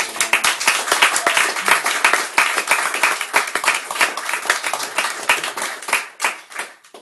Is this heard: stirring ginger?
no